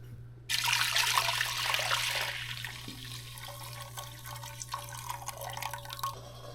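Crab cooking liquid is poured back into a pot for a baozi sauce, a steady splashing pour that tapers into dribbles and drips over a low constant hum.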